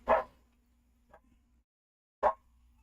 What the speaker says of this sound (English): He's barking. You can probably hear him.